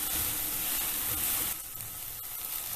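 Eggplant circles seasoned with salt cook in a pan, producing a loud, dense sizzle that drops to a softer hiss partway through, with a faint tap near the end.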